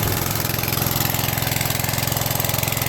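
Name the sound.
engine charging a battery, backing off at lower RPM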